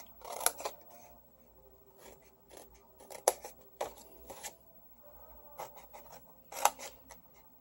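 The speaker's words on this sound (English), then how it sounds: "we're just going to cut up these 4 pieces. We're going to cut these apart." Scissors snip through paper pieces being cut apart for a baker's box, a series of close, quiet, crisp cuts arriving in irregular clusters with small pauses between them.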